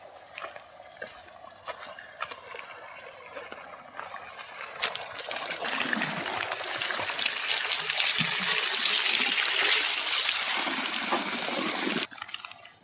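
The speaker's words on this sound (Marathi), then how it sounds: "पाणी चालू आहे." Tap water runs into a basin while leaves are washed for cooking chicken popti, a soft trickle with scattered clinks that swells into a steady, loud gush before cutting off near the end.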